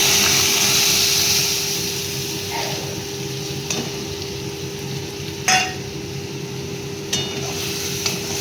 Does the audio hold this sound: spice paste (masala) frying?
yes